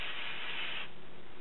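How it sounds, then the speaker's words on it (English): Hair spray hisses onto a wig in one brief, close burst lasting under a second, then cuts to quiet room tone. "I like that spray too"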